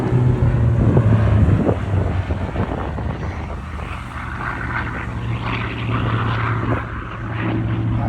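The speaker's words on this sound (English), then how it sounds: "Former naval fighter bomber, Fury was development from the Tempest, which in and of itself was the development of the Typhoon, late war radial engine" A Hawker Fury naval fighter-bomber with a late-war radial engine flies past at a seaside air festival, a steady loud propeller drone with wind buffeting that swells early and then holds on.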